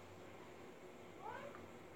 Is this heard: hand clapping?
no